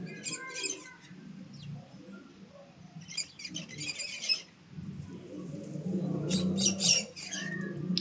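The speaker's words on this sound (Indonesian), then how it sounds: "Adapun contoh suara dari ordo ini adalah sebagai berikut." Parrots of the order Psittaciformes give repeated shrill chirps and squawks in short bursts, with lower chattering and warbling calls between them, fairly close and moderately loud.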